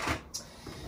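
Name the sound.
makeup drawer opened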